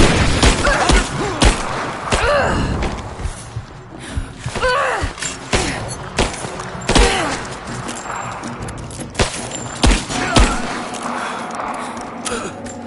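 Gunfire and explosions from the video game Rise of the Tomb Raider come as repeated loud bursts and thuds across the scene. Game voices and gasps mix in between the shots.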